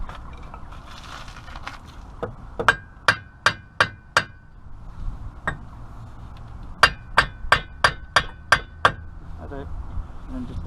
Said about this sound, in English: Let's give it a tap with the hammer a little bit.